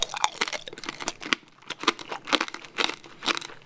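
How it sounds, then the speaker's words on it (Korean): Candied-fruit tanghulu bitten and chewed up close: a run of sharp, brittle crunches and crackles from the sugar shell, coming in irregular bursts with no speech. "탕후루 이빨에 부딪히는 소리"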